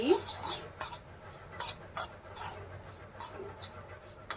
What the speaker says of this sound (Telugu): పీనట్ పౌడర్ అది కూడా యాడ్ చేసేస్తున్నాను యాడ్ చేసి ఒకసారి మిక్స్ చేసేసుకుందాం